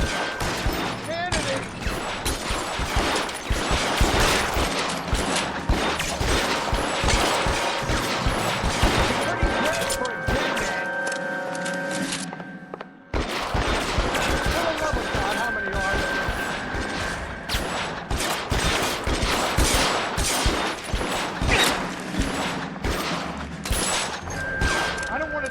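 Gunfire in the video game L.A. Noire, dense rapid shots crackling almost nonstop, broken by a brief lull before firing resumes, with voices talking over it.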